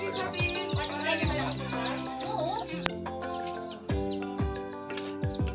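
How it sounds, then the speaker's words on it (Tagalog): Several native chickens cluck and chatter nearby, overlapping calls with occasional louder squawks, over a steady background hum. "Native na manok. Dami nilang alaga."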